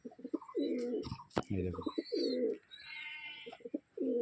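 An old pigeon coos in repeated throaty bursts close by, with someone speaking briefly between the calls and a sharp knock partway through.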